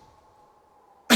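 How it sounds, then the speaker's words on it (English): A single abrupt cough, loud and close, breaking out at the very end after near silence with a faint steady hum. "Just random cough."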